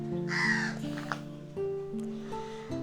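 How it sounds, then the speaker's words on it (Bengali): Crows caw loudly at a quiet island camp on Mousuni Island, a couple of harsh calls standing out near the start over a steady background hum. "পাখির কিচিরমিচির আওয়াজ।"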